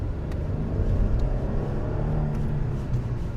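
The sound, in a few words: Hyundai Genesis V6 engine running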